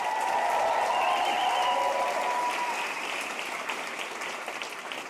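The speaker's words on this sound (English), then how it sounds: "Everybody, you can give yourselves a round of applause." Audience applause filling a festival hall after a poetry slam final, dense and steady clapping that holds strong for several seconds before gradually thinning and fading slightly toward the end.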